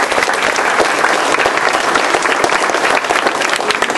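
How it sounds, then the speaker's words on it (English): Full, loud audience applause at a hockey gathering in Seattle, a dense unbroken clatter of many hands clapping close by for the whole stretch. "I'd like just a round of applause to show"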